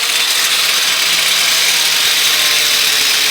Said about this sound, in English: I'm going to use a wire brush here to clean up the ends here to get the mill scale, that dark gray color off of here